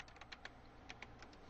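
A computer keyboard is typed on in quick, quiet bursts of clicking keystrokes, close but faint, with no speech.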